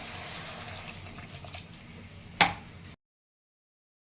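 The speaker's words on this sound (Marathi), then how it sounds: "भोपळ्यामध्ये पाणी टाकून घेते" Water is poured into a pan of sautéed pumpkin, a steady close splashing wash with a brief louder splash near the end before it cuts to silence.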